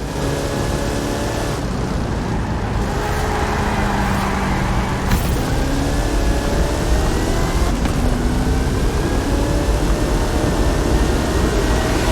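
Engine of a Hot Wheels monster truck with a 540 cubic inch Chevrolet engine and 66 inch Terra tyres revs in the video game Forza Horizon 5, a loud continuous roar rising and falling in pitch.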